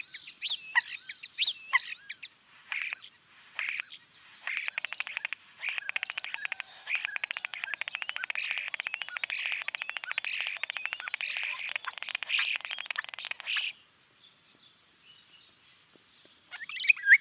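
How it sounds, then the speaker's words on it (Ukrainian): Birds singing and chirping in rapid, continuous twittering trills, fairly close, with a brief quieter pause before a few more chirps at the end. "Так, це спів пташок."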